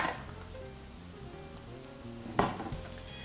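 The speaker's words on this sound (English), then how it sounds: "So that's going to saute some on either side." Blackened salmon sautes in a hot pan with a steady, quiet sizzle and frying crackle, broken by a brief louder spatter midway through.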